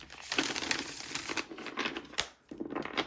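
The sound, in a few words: shuffling tarot cards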